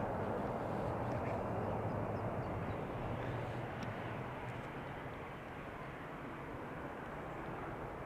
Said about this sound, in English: Just a regular takeoff.